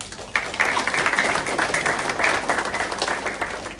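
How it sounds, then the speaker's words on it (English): Applause swells suddenly from a junior cricket club presentation crowd of kids and parents, a brisk, continuous patter of many hands clapping that holds steady before trailing off. "And then a bigger clap for Mum and Dad for bringing you down."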